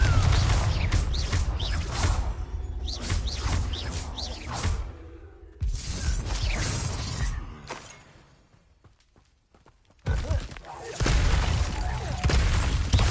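Repeated spell blasts such as Confringo from Hogwarts Legacy on PlayStation: sharp booming bursts with whooshing tails, loud and close, separated by short quieter gaps.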